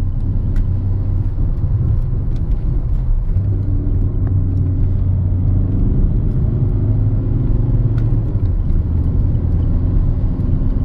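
A 2005 Skoda Octavia with a 1.9 TDI diesel engine driven hard, giving a steady loud drone of engine and road rumble with rising and falling pulls, heard from inside the car with no talking.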